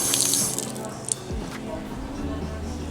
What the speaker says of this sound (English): Such a beautiful antique water post.